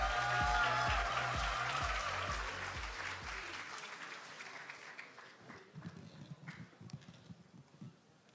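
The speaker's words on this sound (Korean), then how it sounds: "위원장님을 큰 박수로 맞이해 주시기 바랍니다" A large hall audience applauds as the chairman comes up to the stage at a party's 70th anniversary ceremony, the dense clapping strong at first, then thinning and fading over several seconds.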